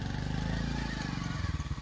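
A motorcycle engine runs steadily nearby with a low, pulsing drone, heard briefly on a rough road to a shrine.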